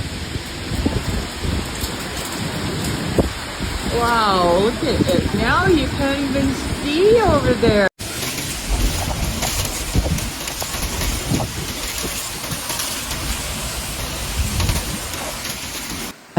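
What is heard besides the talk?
heavy rain during a thunderstorm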